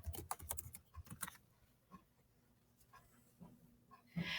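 Quiet, close keyboard typing as a word is entered into an online thesaurus: a quick burst of keystrokes, then scattered softer taps over a faint background hum.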